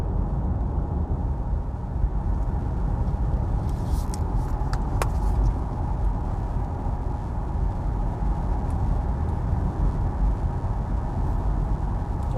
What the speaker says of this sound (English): I'm cruising at 100 kilometers per hour now on speedo, just so I can make it